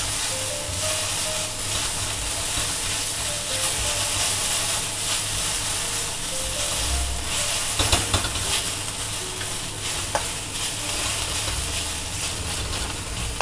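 Vegetables sizzle and hiss in a very hot wok as they are stirred around during seasoning, a loud, continuous frying crackle with occasional scraping clatters of the stirring.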